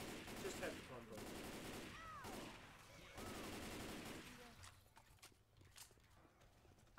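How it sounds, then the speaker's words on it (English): Gunfire and zombie-fight action in the video game Left 4 Dead 2, with rapid shots and horse-like clattering bursts through the first few seconds, then thinner scattered hits and a quieter tail. "Just had to pump him full of bullets."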